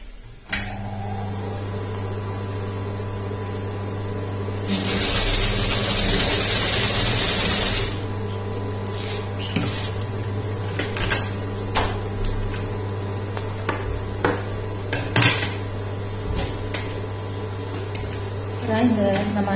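A sewing machine stitches canvas onto a churidar neck, its motor whirring in one loud, steady run of a few seconds while someone talks before, during and after it over a constant low hum.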